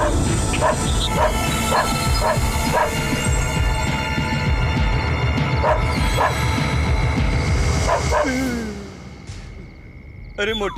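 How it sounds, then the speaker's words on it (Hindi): A dog barks repeatedly in evenly spaced, loud, close barks over a low throbbing hum, and someone speaks briefly near the end as the barking stops. "ये कुत्ता क्यों भौंक रहा है?"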